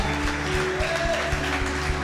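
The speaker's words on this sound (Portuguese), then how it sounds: "dê uma forte salva de palmas ao Senhor." Congregation applause during a Holy Communion worship service at a church in Curitiba, a dense steady wash of clapping with a soft, regular low thump beneath and sustained musical tones running through it.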